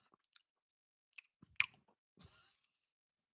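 Crunchy McDonald's food is chewed close to the mic, giving a few scattered crisp bites and crunches, one sharp loud crunch in the middle, then a softer crunching burst, in an otherwise quiet room.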